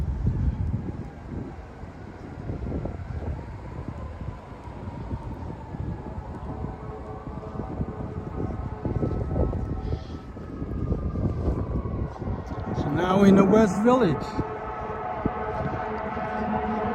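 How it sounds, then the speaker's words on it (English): A wailing fire department siren rises and falls in the distance over wind noise and street rumble in New York City, while someone speaks briefly. "Man, I keep hearing all these damn sirens."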